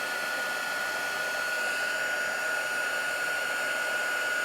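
A handheld heat tool blows continuously while melting embossing powder on dark cardstock, a steady whooshing hiss with a constant high whine, unbroken and close, with no talking.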